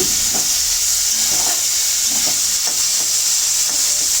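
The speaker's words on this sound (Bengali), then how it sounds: "আর মাঝে মাঝে একটু খুন্তিটা দিয়ে একটু খুঁচিয়ে দিতে হবে" Yardlong beans frying in a pan with salt, turned with a spatula: a steady close sizzle with soft, irregular scraping and tapping strokes throughout, no voices.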